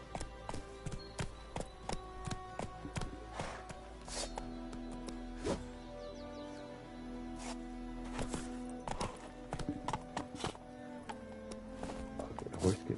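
Rapid clip-clop of horse hooves trotting steadily in the video game The Witcher 3: Wild Hunt on PS5, with a low droning tone and occasional sharper knocks underneath.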